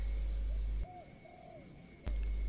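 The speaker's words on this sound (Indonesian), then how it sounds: "Bejo, ini burung kakinya putus satu, makanya dikasih tatakan supaya nggak nyeblos." A captive bird missing one leg gives a soft, hooting call twice in a row, heard fairly close over a steady hum that cuts out briefly.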